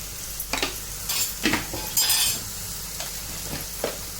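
Homemade black spice masala sautéed in a pan for a village-style crab curry, steady frying sizzle broken by several sharp scrapes and stirring clinks of a spoon, close up with no talking.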